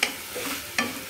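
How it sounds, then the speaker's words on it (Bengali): Rice and lentils are stirred with spices in a hot pan, two quick scraping strokes over a soft sizzle, close by. "চাল আর ডালটা দেখো নাড়িয়ে নিই মশলার সাথে"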